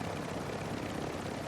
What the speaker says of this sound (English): The heavy chopper